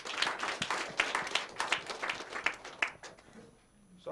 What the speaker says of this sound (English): Make una clap for Mr. Brown